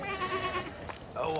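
A sheep bleats in a wavering, drawn-out call, fairly close and moderately loud, with a short break before a second, shorter bleat in a dubbed animated tale.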